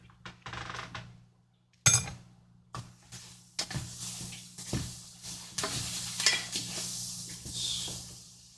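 Butter sizzles in a pan as rice is stirred and coated for mushroom and sage risotto, with scraping stirs and soft clinks over a steady frying hiss at close range.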